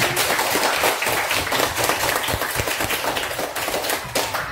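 A class of students clapping hands together during a religious lesson, a brisk, fairly even burst of many hands close by that continues steadily, without speech.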